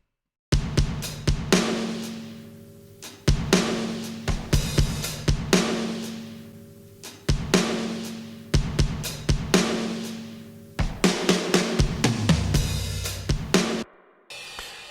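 Live sampled drums processed through effects for a big, roomy sound, playing loud punchy kick and snare hits in a steady groove with a roll near the end, then cutting off abruptly.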